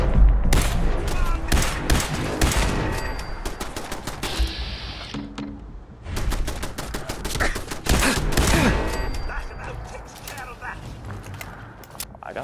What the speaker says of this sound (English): He's firing everything against us.